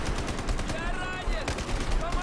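Gunfire in the video game Battlefield 4, with a dense close barrage of shots cracking continuously over a noisy battlefield backdrop and some speech.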